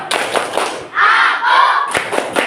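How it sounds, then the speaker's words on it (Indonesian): A class of schoolchildren chants and claps the tepuk anak soleh routine, with rhythmic group clapping and voices together in bursts, close and fairly loud. "Oke, semua tepuk anak soleh."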